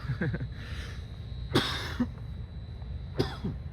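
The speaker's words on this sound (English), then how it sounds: "where'd that cough come from?" Two sharp, deep coughs a couple of seconds apart, close to the microphone, with a faint throat sound between them over a low steady hum.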